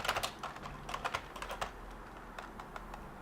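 Fast, uneven typing on a Sun Type 5 computer keyboard, clacking keystrokes arriving in quick bursts and short pauses, close and moderately loud over a low steady hum, no voices.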